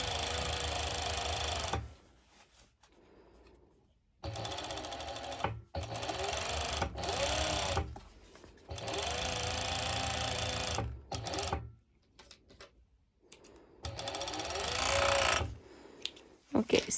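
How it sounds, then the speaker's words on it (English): A serger sewing machine overlocks fabric while attaching elastic, running in several loud bursts of steady whirring stitching separated by short pauses and quiet handling. "So I'm going to serge and I will be adding elastic in the same time."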